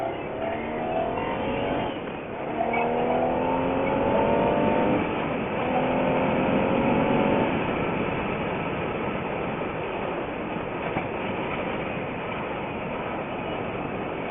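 BMW R1200RT motorcycle engine runs steadily on a test ride, a continuous droning hum with rising and falling tones early on, mixed with road and wind rumble.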